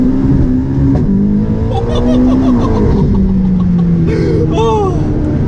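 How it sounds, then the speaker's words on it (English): ATS GT supercar with a 1200-horsepower engine, a loud close engine roar rising and shifting through revs, with sharp pops and a burst of wheel spin near the end, and a voice over it. "Oh, the backfire, the wheel spin"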